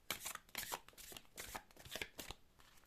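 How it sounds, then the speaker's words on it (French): Tarot cards shuffled by hand in a quick, uneven run of crisp riffling bursts, close and fairly quiet, with no talking. "Je vais mélanger devant vous quand même"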